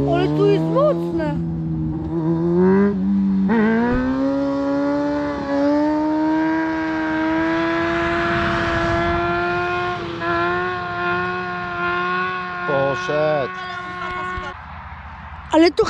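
A Honda CBR600 F4i sport motorcycle idles and revs close by, its engine note rising and falling steadily while people talk over it.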